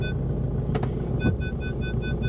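An Audi A3 with a soft, sinking brake pedal reverses and brakes, heard as a low, steady engine rumble close by with a couple of brief knocks partway through.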